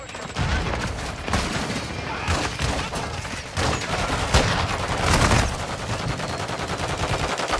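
Video game gunfire aimed at a ship: sustained loud bursts of rapid shots and heavy thumps, dense and continuous throughout, close and dominant.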